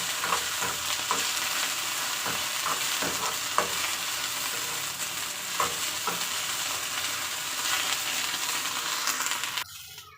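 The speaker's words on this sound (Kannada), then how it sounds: "ಸ್ವಲ್ಪ ಎಣ್ಣೆಯಲ್ಲಿ ಬೆಂಡೆಕಾಯಿ ಸ್ವಲ್ಪ ಫ್ರೈ ಮಾಡ್ಕೋಬೇಕು." Okra frying in a little oil in a pan, a steady close sizzle with light scraping stirs at irregular intervals before it cuts off near the end.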